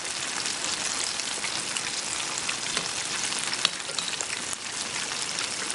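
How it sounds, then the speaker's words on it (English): Banana fritters fry in hot oil with a continuous, close crackling sizzle, evenly dense and fairly loud, with occasional sharper pops standing out. "If you can hear that noise of frying"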